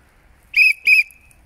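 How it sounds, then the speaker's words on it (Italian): Two short, shrill whistle blasts in quick succession, loud and close, with quiet before and after. "La prossima volta mi prendo un fischietto anch'io"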